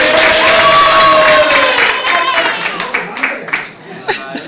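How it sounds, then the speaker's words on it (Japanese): Audience applause and cheering at a live Japanese magic show where a card trick is performed with a 100-yen-shop deck, loud and dense with shouts and whoops over steady clapping. "はい、拍手。"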